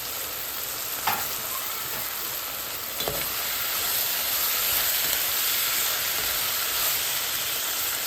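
Tomatoes fry in a hot pan for a Sri Lankan mutton leg curry, a loud, steady close sizzle and hiss with a couple of stirring clinks and no talk.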